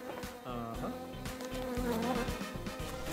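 A housefly buzzes steadily and close by, its droning hum wavering in pitch as it moves around, with no talk over it.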